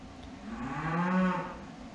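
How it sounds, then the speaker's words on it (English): Cows moo in a long, drawn-out low call that swells and fades over about two seconds, moderately distant and not loud, with faint background noise and no talking; the cattle are calling to be fed. "And the cows think they need something to eat, as you can hear probably."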